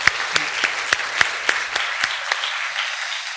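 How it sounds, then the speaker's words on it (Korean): A church congregation claps for the Gloria choir during a Korean Sunday service in Manila, a steady rhythmic beat of loud, even claps carrying on for several seconds with no talking. "우리 글로리아 찬양대를 우리 다시 한번 크게 박수로 축복해 주시면 좋겠습니다"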